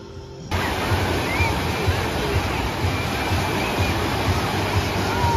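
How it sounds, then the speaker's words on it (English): Whitewater waves rolling through the Tsunami wave pool at Sandcastle water park, a steady loud wash of surf that swells in after a brief quieter moment and continues without break. "Right now, it looks like some pretty good whitewater waves"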